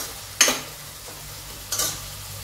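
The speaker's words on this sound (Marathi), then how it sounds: "आपला कांदा जो आहे ना हा पटकन भाजावा म्हणून आपण याच्यात मीठ घालत आहोत." Onion roasts with a spoonful of salt in a pan for Hyderabadi dalcha rice, a faint low sizzle broken by two short, sharp stirring scrapes, no talking.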